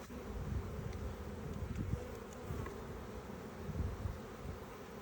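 Honey bees buzz at an open hive during an inspection, a steady low drone from many insects close to the microphone, swelling and fading slightly with individual bees passing.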